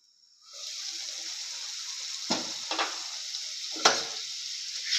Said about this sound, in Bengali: থাক, মশলাটা একটু কষুক।